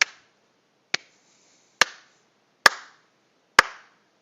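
Single person clapping slowly: five sharp, isolated hand claps about a second apart, each with a short room echo, otherwise quiet.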